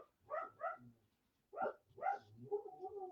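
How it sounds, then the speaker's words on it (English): Dogs bark in repeated short bursts, two quick barks, a pause, then two more followed by a trailing whine, fairly close and clear with no talk over them. "So sorry about the dogs, guys."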